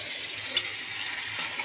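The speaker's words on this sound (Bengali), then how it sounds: "আমি জলটা ঢেলে দেবো।" Water poured into a cooking pot of spiced, sautéed curry with cardamom and cinnamon in a home kitchen, a steady soft hiss and splash with a light sizzle, close and alone.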